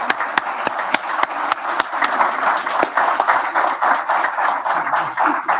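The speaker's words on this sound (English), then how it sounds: "Let's give a big round of applause" An audience at a Board of Education meeting applauds a teacher receiving an award, with sharp, fairly regular claps standing out over a steady wash of crowd noise for several seconds.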